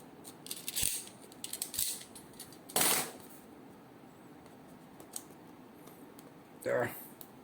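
A Razer DeathAdder V2 X HyperSpeed wireless gaming mouse is unboxed, with scattered close crinkles, sharp plastic clicks and short rustling bursts of packaging separated by quieter pauses.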